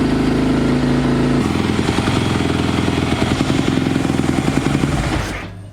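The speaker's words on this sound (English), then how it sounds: "pull the choke out, and we'll just give it a quick kick over." A Yamaha YZ250F dirt bike, choke pulled out, is kick-started and runs with a close, loud, rapid popping idle that holds steady for several seconds before tapering off.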